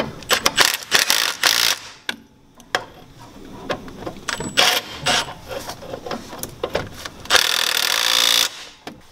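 A hand ratchet tightens a wheel bearing bolt on a 2009 Jeep Commander in a series of clicking bursts with metallic knocks between them, then a longer steady run of ratcheting near the end.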